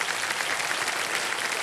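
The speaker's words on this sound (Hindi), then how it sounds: "बहुत बहुत स्वागत तालियों के साथ इनका" A studio audience on the game show Kaun Banega Crorepati claps to welcome contestants, a brief burst of dense, even applause at steady volume with no talking.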